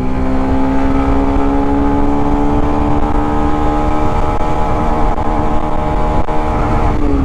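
A Yamaha FZX motorcycle engine running steadily and loud close up, its droning pitch holding then rising slightly as the bike accelerates through third and into fourth gear.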